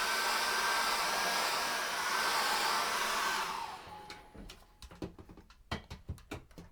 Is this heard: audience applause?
no